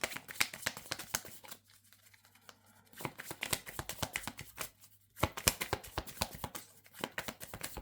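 Tarot cards are shuffled and drawn by hand in quick, close, crisp bursts of riffling and slapping, broken by short quiet pauses between flurries.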